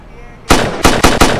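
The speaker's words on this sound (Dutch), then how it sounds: "Wordt hier gewoon geknald, jongen?" Gunfire in a FiveM roleplay video game: four loud, sharp shots, the first standing alone and the last three in a quick, evenly spaced burst after a quiet lead-in.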